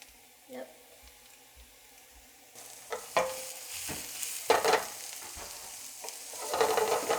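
Red peppers tipped into a hot frying pan and stirred, giving a soft sizzle that swells as they land, broken by scraping stir strokes and clinks of the utensil; a voice speaks briefly.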